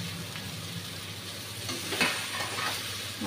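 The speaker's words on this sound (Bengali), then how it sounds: "মশলাটা ভালো করে ভেজে নিয়েছি, এখন মাছগুলো দিয়ে দিচ্ছি।" Katla fish pieces going into oil with well-fried spices, a quiet, continuous sizzle that swells briefly midway, close up with no talking.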